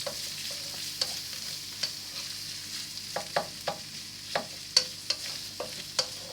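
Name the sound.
shallots sautéing on a low flame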